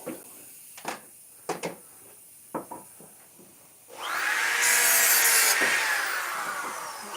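Hand work on a wooden sign: several short scraping and tapping strokes, then a loud, sustained rough power-tool roar for the last few seconds, with no talking.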